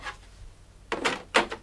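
The door of a Lexmark CX410de colour laser multifunction printer is closed, with two quick plastic clunks and rattles close by, preceded by a brief faint rustle.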